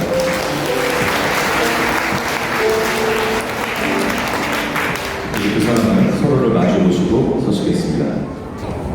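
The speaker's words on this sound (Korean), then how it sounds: "여러분 따뜻한 박수 부탁드립니다." Wedding guests applaud during a ceremony without an officiant, producing sustained clapping from a crowd. It swells slightly toward the end, with voices and background music underneath.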